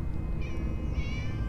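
Cats meow in Minecraft Story Mode, two short, fairly quiet mews in a row over a low background hum.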